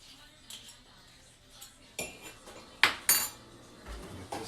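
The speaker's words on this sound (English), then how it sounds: "let me use the spoon, put it right in my cup" A metal spoon clinks and scrapes as it scoops a tablespoon of fat into a cup, quiet handling noises building to a few sharp clinks near the end.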